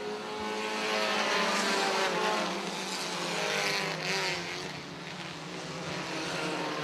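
Race cars roar side by side at Airborne Speedway in Plattsburgh, New York, a loud continuous engine drone that swells and fades slightly as the pack passes during a stock car event.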